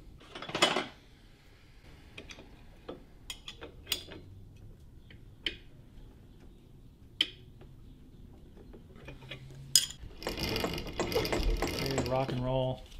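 A clutch-side nut on a VLR 100cc motorbike is tightened, heard as scattered metallic clicks and ratcheting taps from close by, then a denser burst of rattling tool noise near the end.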